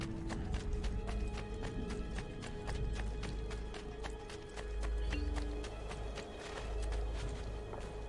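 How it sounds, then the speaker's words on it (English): Hooves clip-clop in a quick, steady galloping rhythm as a horse is ridden in Assassin's Creed 2, with game ambience and music tones underneath, no talking. "There's horse riding in this game?"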